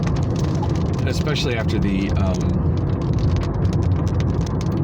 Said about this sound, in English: oh damn, it's raining again